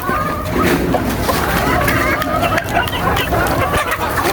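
Hens and a rooster cluck in a busy flock while jostling over feed, their calls steady under someone talking nearby, with faint sloshing mixed in.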